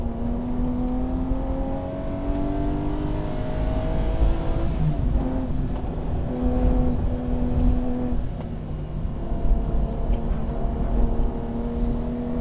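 A supercharged 2014 Toyota 86 engine hums and revs steadily at close range on a mountain pass test, its pitch rising and falling through gear changes, with no talking.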